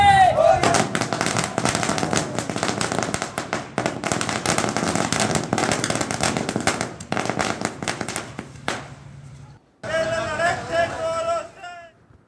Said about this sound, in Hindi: कांग्रेस कार्यकर्ताओं ने जमकर आतिशबाजी की है।